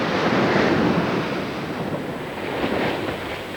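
Atlantic ocean surf breaking against a granite coast, a loud continuous wash of roaring water with wind buffeting, steady and full throughout, no voices.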